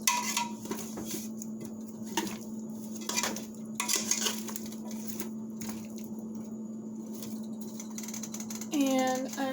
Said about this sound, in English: So I'm going to just give this a little mixy mix.